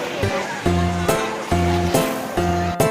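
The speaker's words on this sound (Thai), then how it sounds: "ตอนนี้นะคะก็ มีในส่วนของคลื่นเรียบร้อยนะคะ" Surf breaks repeatedly on the beach at Holiday Inn Hua Hin, with rushing washes rising and falling every second or so, loud and close.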